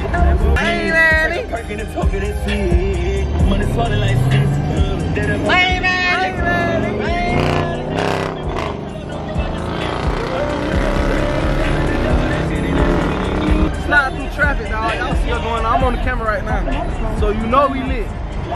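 Street traffic with cars and engines rushing past, a busy, continuous roar with passing vehicles and voices chattering and shouting close by throughout.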